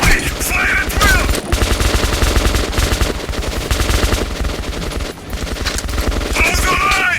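Gunfire in the video game Metro 2033 Redux, loud, sustained bursts of rapid automatic shots and volleys filling the whole stretch, with brief shouted voices near the start and end.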